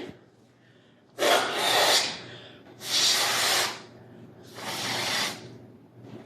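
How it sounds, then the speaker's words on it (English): Someone blows up a balloon for a balloon rocket, three long, breathy puffs of air forced in close to the mic, separated by short pauses over a faint steady hum. "And you are going to blow up your balloon"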